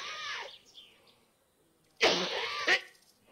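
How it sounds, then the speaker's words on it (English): A man coughs in a car-driving game: a short harsh burst at the start, then a louder raspy cough with a second sharp hack after a brief quiet gap. "that cough sounds so bad"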